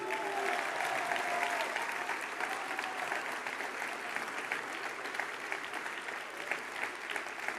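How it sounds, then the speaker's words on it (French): Sustained audience applause fills an indoor political rally hall after election results, a dense even wash of many hands clapping at a distance with faint crowd murmur, no talk over it. "Merci à toutes et tous ce soir, une fois encore, de les applaudir."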